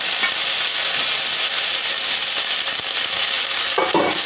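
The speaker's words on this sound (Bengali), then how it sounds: "আমার পেঁয়াজ রসুনটা ভাজা হয়ে গেছে, এখন এর মধ্যে আমি এই আলুটা দিয়ে দিচ্ছি, এই লঙ্কাটা দিয়ে দিচ্ছি" Potato and chili fry in hot oil with onion and garlic, a constant close sizzle and hiss, with a brief clatter of stirring near the end.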